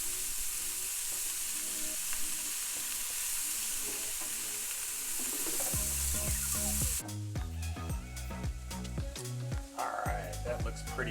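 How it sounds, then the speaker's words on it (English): Onions and mixed vegetables sauté in hot oil with a steady, close hiss and crackle, stirred now and then. Music comes in over the sizzle partway through. "stir everything around so that oil coats the different vegetables. And we're just going to cook this until the onions are about translucent"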